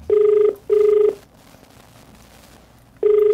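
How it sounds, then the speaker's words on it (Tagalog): A telephone ringback during a call: two short, loud, steady beeping tones in quick succession, a gap of silence, then a third tone begins, with a faint hum underneath. "Pinakikita po namin na yung telepono po yan, tinatawagan po natin"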